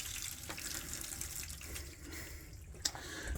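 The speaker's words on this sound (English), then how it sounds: "And you can hear the water coming down here, so everything is working" Water flows down through newly installed drain pipe on a house's first floor, a faint continuous rushing with a small clink partway through and no voices.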